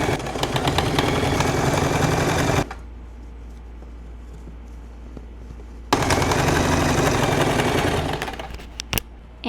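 A sewing machine stitches shirt fabric in rapid mechanical bursts, a fast loud clatter that stops, leaves a low motor hum for a few seconds, then resumes, running alone without talk.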